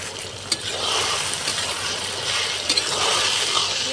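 Crushed garlic and ginger paste hits hot oil in a wok, giving a dense, loud sizzle that swells after a sharp clatter, with a few light spoon knocks over the steady hiss.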